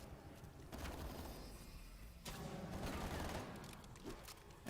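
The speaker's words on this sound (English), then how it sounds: "You gotta find the right one each time and shoot it." Gunfire in the Call of Duty Cold War zombies mode, fired at a target: faint, dense bursts of shots crackle and swell in waves, sounding distant and muffled, with a sharper pop at the very end.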